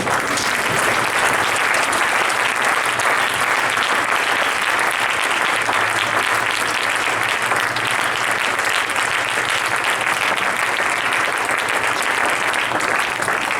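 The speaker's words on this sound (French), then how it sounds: "Est-ce qu'on peut acclamer le Seigneur?" A church congregation applauds and acclaims the Lord with loud, steady clapping that fills the room without pause, a dense unbroken roar of many hands with faint voices mixed in.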